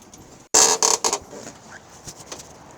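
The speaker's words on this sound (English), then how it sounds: "Closing the door, closes nicely." A 1955 Dodge Coronet Suburban station wagon door swings shut with one solid, close thunk, followed by a brief rattle and settling as the latch catches.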